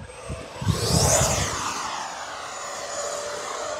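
An FMS Avanti S V3 70mm electric ducted-fan RC jet screams at full throttle in a steady high-pitched whine, swelling loudly as it passes close and then holding a sustained roar, with no talk.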